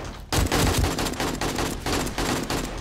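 An AK rifle in the 7 Days to Die video game fires in sustained bursts of rapid, close, loud shots, a run of repeated automatic fire with brief dips between volleys.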